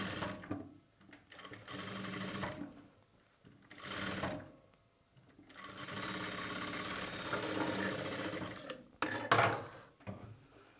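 A sewing machine stitches a second line of thread piping onto cloth in several whirring runs of varying length, separated by short pauses, close and moderately loud.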